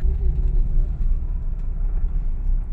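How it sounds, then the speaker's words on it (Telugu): A white car drives past with a steady, fairly loud low engine and tyre rumble, with no voices. "అదిగో ఆ కారు, వైట్ కార్ వెళ్తుందిగా"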